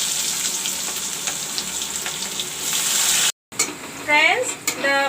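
Cut onions hitting hot oil with cumin seeds and bay leaves for a Bengali fish curry with potatoes, giving a steady close sizzle that breaks off briefly, then returns with stirring clatter and a few thin whistling tones.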